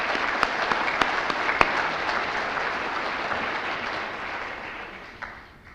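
Sustained applause from a conference audience at a RESNET 2012 session honours home builders and energy raters: a dense, even wash of many hands clapping that slowly fades toward the end, with no talking.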